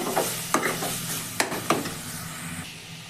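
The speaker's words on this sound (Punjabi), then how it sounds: "ਹੁਣ ਇਹਨਾਂ ਸਾਰੀਆਂ ਚੀਜ਼ਾਂ ਨੂੰ ਆਪਾਂ ਚੰਗੀ ਤਰ੍ਹਾਂ ਮਿਲਾ ਲਵਾਂਗੇ" A chickpea curry with spices is stirred and mixed in a pan, with a soft ongoing sizzle and several distinct spoon scrapes and knocks at irregular intervals, close up and without talk.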